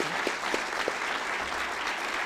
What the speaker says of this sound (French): on peut applaudir Michel Puech déjà, le remercier